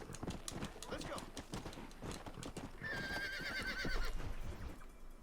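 Horse hooves gallop in the video game Red Dead Redemption, a rapid rhythmic clip-clop at close range, followed by a loud neigh; a voice speaks over the hoofbeats.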